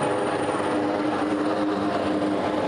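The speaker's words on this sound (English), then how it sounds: "That firefighter being lifted into the air by that rescue chopper and a rescuer here" A New York State Police rescue helicopter hovers during a rescue of stranded firefighters in New Jersey, its rotor and engine roar loud, steady and continuous throughout, with no voices.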